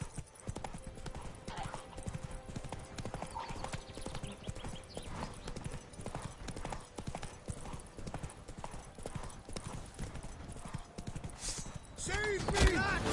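A horse galloping in Witcher 3: Blood and Wine, with a rapid, steady clip-clop of hooves throughout, game combat sounds in the background, and voices speaking near the end.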